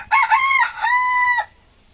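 A rooster on a poultry farm crows once at close range, a loud, clear call about a second and a half long that rises, dips briefly, then holds a long strained final note before cutting off.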